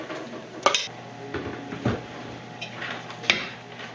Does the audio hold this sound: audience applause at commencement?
no